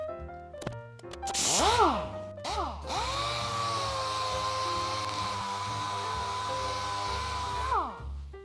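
A dual-action sander with 180-grit paper strips rust from the door of a 1955 Vendo 6 Case Vertical Coca-Cola machine. It revs up in a few short bursts, then holds a steady, loud motor whine for about five seconds before spinning down.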